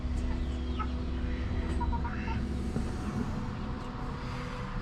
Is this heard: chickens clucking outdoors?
yes